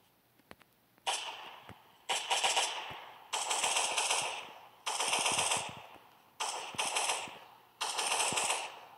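Video game gunfire from Last Day On Earth, an upgraded Winchester-type weapon firing in six evenly spaced bursts of sharp, crackling shots, moderately loud with brief gaps between and no talk.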